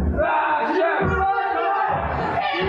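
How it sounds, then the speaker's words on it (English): Loud crowd cheering and yelling at a kids wrestling match, a continuous roar of many voices with whoops and bellows rising and falling throughout. "The crowd is going wild for Crusher Crossen"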